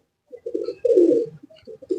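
Breeding pigeons give soft, close coos in a few short throaty bursts, one longer and louder phrase in the middle, with quiet gaps between calls.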